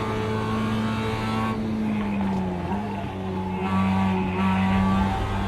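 A race car engine in the iRacing sim game drones loudly and continuously, its pitch falling through a corner and then climbing again under acceleration, with a faint tire scrub.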